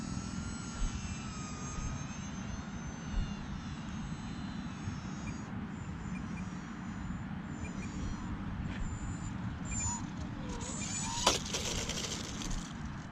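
E-Flite UMX Cirrus SR22T RC airplane comes in to land outdoors, its small electric motor a thin, distant whine over steady wind noise, with a brief louder bump late on.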